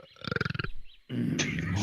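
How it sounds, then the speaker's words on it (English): A person lets out a long, deliberate burp with a rapid rattling pulse, followed by a brief pause and then a rougher, growling continuation, close and fairly loud. "It's amazing you can burp on command like that."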